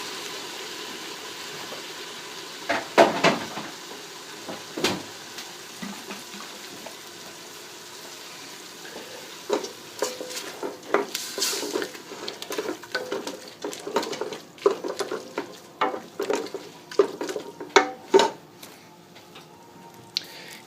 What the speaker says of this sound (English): We're going to hit this pan with about 1/2 cup of wine.